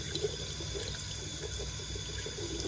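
Tap water runs steadily into a sink during washing, a continuous close splashing hiss with no talk.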